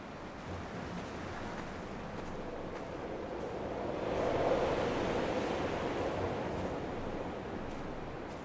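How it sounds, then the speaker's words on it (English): Wind blows steadily through the valleys of the game Dear Esther, a soft, broad rushing that swells midway and then settles into a continuous airy hiss. "I love how the wind picks up like that when you begin going through these valleys."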